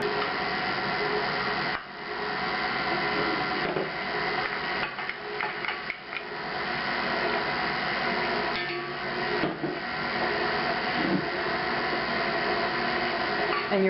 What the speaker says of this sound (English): I've got it on a low speed. 1 on my KitchenAid mixer works really well